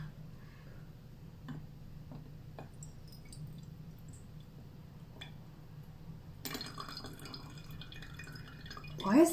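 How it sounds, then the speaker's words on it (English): Tea for ice brew squeezed out of a strainer, a few sparse, faint drips and small squishy ticks over quiet room tone, with a louder rustling handling noise near the end. "I'm gonna try to squeeze out a little bit more of the drops."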